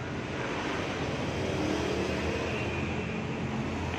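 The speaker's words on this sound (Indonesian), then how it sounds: "Ini kipas angin merek Cosmos." A Cosmos electric fan runs during a test after rewinding, giving a steady, loud broadband whoosh of moving air that holds even for the whole stretch.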